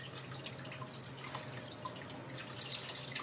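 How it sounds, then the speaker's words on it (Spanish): Water trickles and drips into a mixture while making peanut horchata, a quiet, steady liquid patter with small splashy drops and no speech. "Voy a agregarle una taza más de agua, serían 7 en total."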